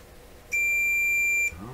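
A short-circuit detector gives one steady electronic beep lasting about a second, clear and close, while a tube radio is being tested on the bench.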